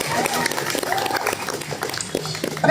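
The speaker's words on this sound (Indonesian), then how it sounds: "Boleh tepuk tangan." An audience at a Quran school graduation ceremony claps briefly, a choppy patter of hands mixed with voices and crowd noise nearby.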